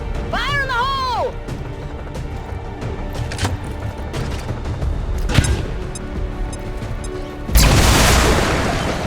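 A grenade explosion in the video game XCOM 2, following a voice call and battle sounds, ending in a loud, close burst of blast and debris noise.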